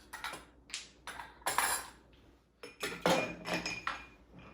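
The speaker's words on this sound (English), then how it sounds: "So now we're going to take some ice." Ice cubes clatter into a mixing glass for an Old Fashioned, a string of sharp, bright clinks and rattles arriving in several close, loud bursts with brief pauses between.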